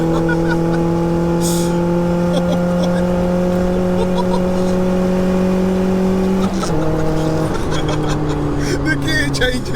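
Turbocharged 1-litre Nissan Micra accelerating through the gears from inside the cabin: a loud, steadily rising engine drone, a brief dip at a gear change, then the engine pulls again with faint voices underneath.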